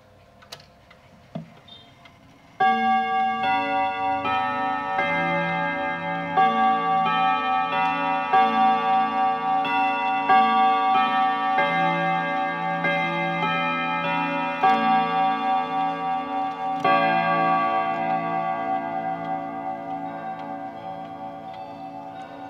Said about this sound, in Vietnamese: Đấy là tiếng chuông của chiếc đồng hồ Jaeger.